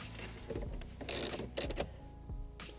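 Screw being tightened back into a dash panel on a Mercedes C-Class, a few close mechanical clicks and ratcheting turns with short bright scraping bursts, no talking.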